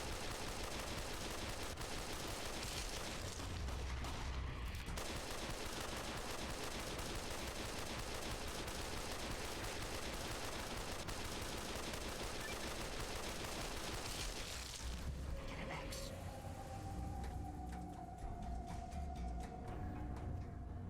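Relentless gunfire in the video game Fallout: New Vegas, a loud, continuous stream of rapid shots with no pause, briefly thinning near the end as a steady electronic tone rises.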